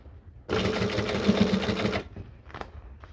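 A sewing machine stitches a small leather drink bottle holder, one short, rapid burst of needle strokes lasting about a second and a half, followed by quiet rustling and faint clicks.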